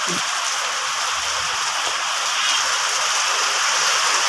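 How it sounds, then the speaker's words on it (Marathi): First rain of the year falling on a village in Shirale: a steady, dense hiss of rainfall covering the whole stretch, even and close, with no clear voices standing out. "ह्या वर्षीचा पहिला पाऊस पडत आहे आपल्या गावात"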